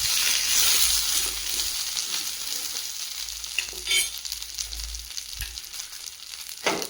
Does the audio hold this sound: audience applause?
no